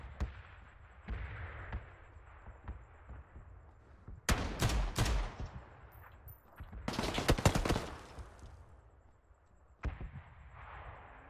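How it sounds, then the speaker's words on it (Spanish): Gunshots in PUBG on Xbox One: after a quiet stretch, a few close bursts of rapid fire crack out in clusters, with scattered single shots before and after and no talk. "Alguien me disparó de otra dirección."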